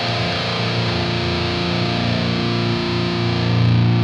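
A distorted electric guitar through a Precision Drive overdrive pedal boosting a Hughes & Kettner amp holds a thick, saturated sustained chord, loud and constant, buzzing with dense grit and swelling slightly at the end.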